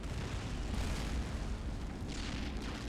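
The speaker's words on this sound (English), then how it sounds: "The German Navy is returning fire." Naval battleship gunfire in a Men of War battleship battle, a dense continuous barrage of deep booms and blasts rumbling together at steady loudness, with no talking.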